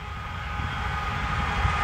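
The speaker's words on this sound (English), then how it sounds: "Eastbound CP / UP grain train coming into Kip Yard." An eastbound CP/UP grain train rolling into Kip Yard, a steady, fairly loud rumble and hiss of rail cars passing close by with no talk.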